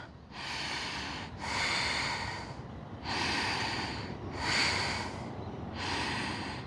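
Deep, slow breaths during a yoga session, five long airy inhale and exhale cycles at an even rhythm, close to the microphone and heard alone without talk.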